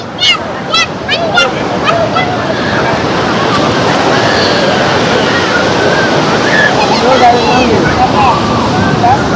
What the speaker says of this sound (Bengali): এখানে কি পরিমাণ ঢেউ এবং এই ঢেউ হচ্ছে অনেক বেশি।